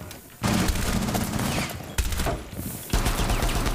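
Rapid bursts of gunfire in the video game Rainbow Six Siege, loud and close, in dense clusters separated by brief pauses.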